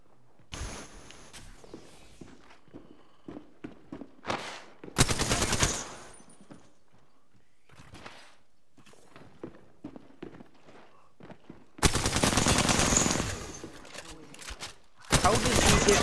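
Apex Legends gunfire: sustained automatic bursts, loud and close, separated by footsteps and scattered clicks, with voices talking under parts of the action.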